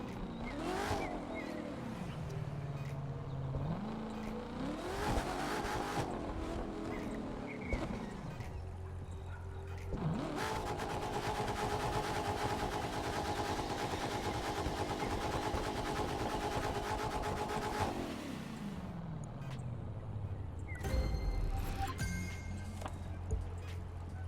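A car engine drives along in a video game, revving and shifting through rising and falling pitch sweeps with a sustained loud stretch of acceleration, then winding down near the end, with no talk over it.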